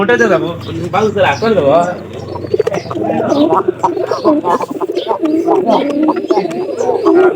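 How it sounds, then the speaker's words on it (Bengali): Pigeons coo repeatedly in soft, throaty bursts close by, with people talking over them throughout. "শিপন শিপন কবুতরটা ধর ধর"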